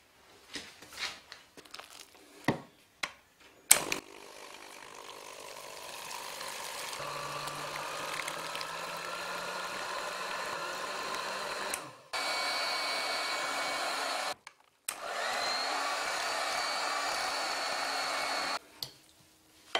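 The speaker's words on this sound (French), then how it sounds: "On peut aussi utiliser un batteur." An electric hand mixer whirs steadily as it beats crêpe batter of flour, eggs and milk, a loud continuous motor drone that stops and restarts, with a few soft kitchen clatters before it starts.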